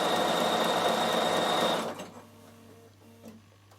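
A Bernina sewing machine stitching wool appliqué runs with a steady loud whir for almost two seconds, then stops, leaving faint mechanical clicks and a low hum.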